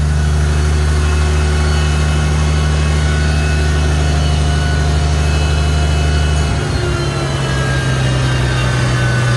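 A snow-clearing tractor engine runs steady and loud at a low throttle hum, then is throttled down about two-thirds through, its deep drone dropping in pitch and easing to a lower idle, with no talk.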